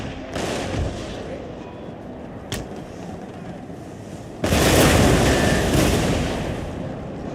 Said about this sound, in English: our artillery starts pounding on his wall